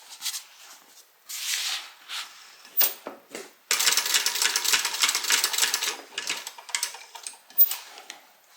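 Domestic sewing machine stitching a tote bag seam, with short bursts of rapid mechanical stitching separated by pauses, then a longer steady run followed by a few brief bursts, close and clear with no talking.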